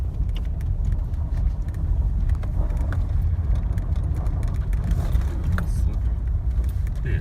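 A budget Subaru rally car with an open-diff front-wheel-drive setup, its engine droning steadily from inside the cabin on a slippery surface, with faint rattles over the continuous road noise.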